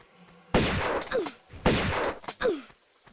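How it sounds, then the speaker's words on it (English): Shotgun blasts from an enemy fight in Tomb Raider I Remastered: two loud, sharp booms about a second apart, each followed by a short descending cry, with a smaller impact afterward. "we shot him twice, so he should disappear"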